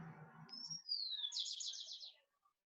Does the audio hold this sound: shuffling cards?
no